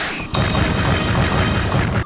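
Rapid, rhythmic gunfire from a gun in an ambitious PlayStation launch-title shooter, a dense run of booming shots fired in quick succession, loud and continuous after a brief softer start.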